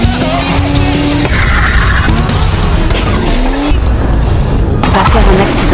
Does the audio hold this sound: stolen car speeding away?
yes